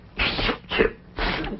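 A single sneeze-like burst sounds up close, framed by two short breathy bursts, in an old television sitcom scene, with no talk over it.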